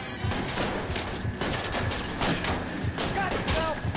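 Gunfire in the video game L.A. Noire: rapid bursts of shots over a busy action soundscape, loud and close, repeating through the moment.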